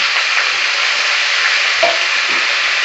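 Pieces of bottle gourd crackle in hot oil for lentil dal, a loud, steady, close sizzle with slight shifts as they settle into the pan.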